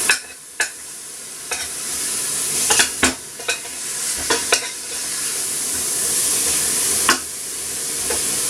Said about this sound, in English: I'm going to cook this in the pan, literally, until it turns brown.